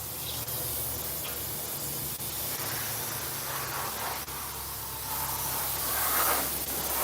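A paint spray gun sprays automotive base coat, hissing continuously in a steady airy spray, with small bursts and shifts as it moves, no talking.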